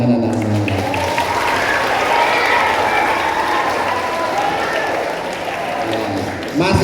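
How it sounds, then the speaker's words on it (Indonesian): Schoolchildren at a junior high flag ceremony clap together in a broad, sustained burst that gradually thins, with crowd murmur and a voice underneath. "Terima kasih, tepuk tangan anak-anak."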